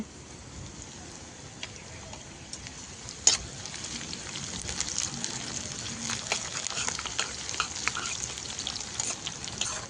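Sliced onions and green chillies fry in a pan, giving a steady bright sizzle with small crackles and occasional stirring ticks, close and continuous throughout.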